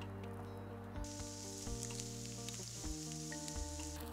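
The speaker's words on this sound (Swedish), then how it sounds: "Så på med de hackade grönsakerna och så lite olja." Chopped vegetables tossed with a little oil sizzle steadily on a camping grill beside halloumi, a continuous close frying hiss with faint clinks over a low rumble of background noise.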